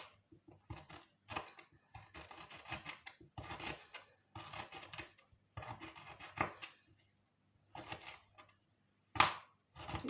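A knife slices through unpeeled ginger on a cutting board for a homemade remedy, giving a series of short, dry, rasping strokes in uneven bursts with brief pauses, close and fairly quiet.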